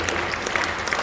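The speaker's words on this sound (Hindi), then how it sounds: "एक बार जोरदार तालियां बाबा जी के सम्मान में बजे।" A live poetry-recital audience at a kavi sammelan in Rajnandgaon bursts into dense, steady applause, many hands clapping loudly and continuously throughout with no voices above it.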